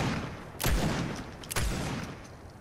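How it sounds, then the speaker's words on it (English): Fortnite gunfire from other players rings out as two sharp, distant-sounding shots about a second apart, each followed by a decaying echo over a low background hum. "Oh, I hear real player shots."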